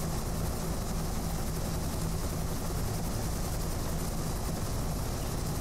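A helicopter flies in the video game Lock On, its rotor and engine holding a steady, loud drone with a faint rhythmic thump throughout.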